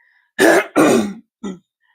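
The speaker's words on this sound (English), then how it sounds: "let me clear my throat" Two forceful throat clearings in quick succession, close and loud, followed by a shorter third rasp.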